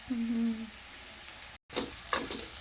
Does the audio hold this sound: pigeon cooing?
no